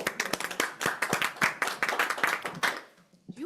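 Scattered audience applause at a school committee meeting, a few people clapping in an uneven rhythm of distinct claps that trails off, with a brief voice at the very end.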